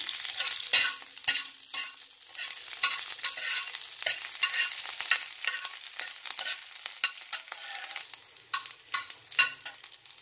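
Curry leaves and green chilli hit hot oil with mustard seeds, crackling and spitting in a busy close sizzle punctuated by sharp spatula stirs, with no talking.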